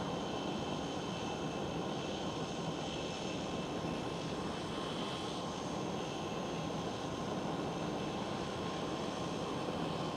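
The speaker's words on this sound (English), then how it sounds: "Right there goes the KLM Cityhopper E195 E2." A KLM Cityhopper Embraer E195-E2 jet passes at Amsterdam Schiphol, a continuous, fairly faint engine roar and rush that stays level throughout, heard alone without speech.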